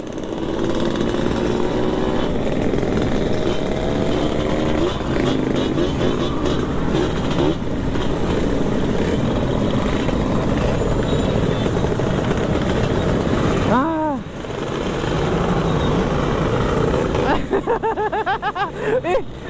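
Two-stroke motorcycle engines idle and rev steadily close by at a night meetup of 2-stroke fans in Makassar, with a brief passing whine near the middle and faint voices underneath.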